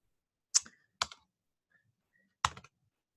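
Three sharp, separate clicks of computer keyboard keys come at irregular intervals in a quiet room, each crisp and close.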